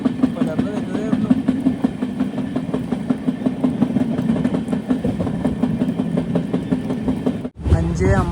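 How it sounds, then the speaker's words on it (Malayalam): An Intercity Express train, Guruvayur to Thiruvananthapuram, arrives at Thuravoor railway station at dawn, its steady rumble and rhythmic wheel clatter continuing throughout, with a brief dropout near the end. "അഞ്ച് 54 ട്രെയിൻ ഇത് തുറവൂർ റെയിൽവേ സ്റ്റേഷനിലേക്ക് എത്തുകയാണ്"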